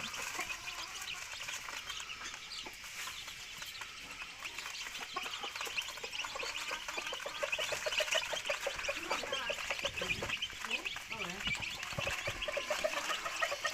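Chickens clucking and murmuring softly nearby amid a busy, rustling background, the calls growing a little louder toward the end.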